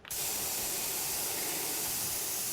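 Spray painting in the Junkyard Builder video game, a continuous steady aerosol hiss that starts abruptly and holds evenly for a couple of seconds with no talking.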